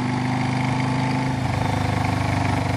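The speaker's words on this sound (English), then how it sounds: "you know, tractors are out" A farm tractor engine runs steadily with a loud, continuous rumbling drone that barely changes over the few seconds, heard out along a country road during farming season, with no voices.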